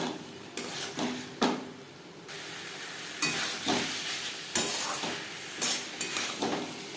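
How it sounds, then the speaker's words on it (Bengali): Peas, potatoes and spices for a ghugni stir-fry sizzle in a pan. Every second or so a spoon scrapes and stirs, making distinct bursts over a softer background hiss. "মটর ও মশলার সাথে আরও 2 মিনিট নাড়াচাড়া করে নেওয়ার পর দিয়ে দেবো জল।"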